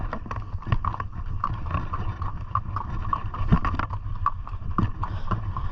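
Horses' hooves clip-clopping on a ride up a gorge in the Sahara, irregular close thuds mixed with gusting wind noise on the microphone.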